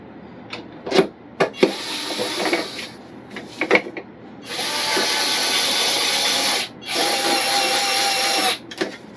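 A powered screwdriver driving 10mm machine screws into an FMS 1800mm Ranger RC plane: several brief handling clicks, then two sustained whirring runs of a few seconds each, close and fairly loud.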